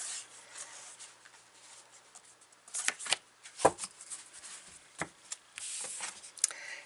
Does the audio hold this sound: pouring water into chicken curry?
no